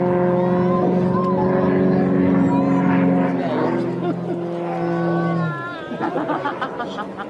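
An aerobatic airplane performing at an airshow in Oostwold: a steady droning engine that suddenly drops away as the throttle closes, leaving quieter crackling and popping noise.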